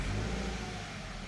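A Subaru BRZ engine fitted with a Flashark full catback exhaust is blipped at low RPM, a short throaty swell that fades quickly, heard faintly and alone.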